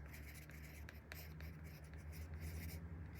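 A watercolor pencil scratches across paper in short strokes, quiet and close, with a faint steady hum underneath.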